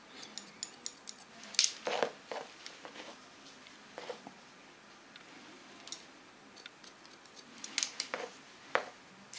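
Scissors snipping hair during an asymmetric haircut, quiet crisp metallic clicks in scattered bursts and short runs of rapid cuts, close by with a soft background hush.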